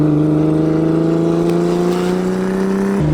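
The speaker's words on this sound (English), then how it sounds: "We're in a manual 2JZ E30 wide body cruising on the beach." A manual 2JZ-swapped BMW E30 wide body cruises along a beach, its six-cylinder engine a loud, steady hum that rises slowly in pitch before a quick shift drops it, heard from inside the car.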